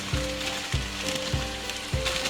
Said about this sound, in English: And it's ready, boiling. And I dump in The mac and all cheese. the noodles.